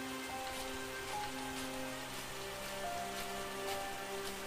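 Steady rain falling on surfaces in a village, a dense even patter with scattered drops, continuous and fairly soft with faint tonal background hum and no voices.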